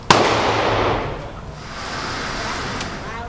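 .500 Magnum revolver fires a single loud shot at the start, a sharp broadband crack whose echo decays over about a second, followed by faint room noise and a small later click.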